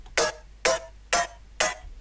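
Two synth plucks layered as one, a sharp attack-only pluck plus a fuller-bodied pluck, hit four times at an even pace, each note crisp at the front with a short tonal ring after, heard alone.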